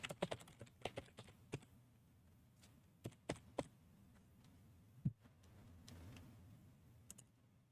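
Fingers typing on a computer keyboard, quiet irregular clicks in quick clusters separated by pauses, close up in a calm room.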